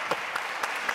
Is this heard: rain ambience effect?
no